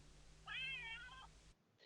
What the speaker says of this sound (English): When I opened it for the first time and that kitty meowed